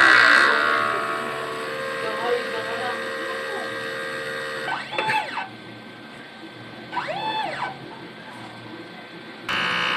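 Inkjet printer running a strong head-cleaning cycle, its print heads replaced in October 2023; steady mechanical whine and tones are punctuated by two distinct rising-and-falling motor sweeps, ending with a brief louder burst.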